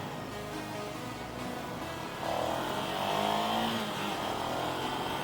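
A 2024 Ducati Scrambler Icon with only about 100 miles on it, heard while riding: a steady engine drone with wind rush that swells partway through as the revs build, loud and continuous with no voices.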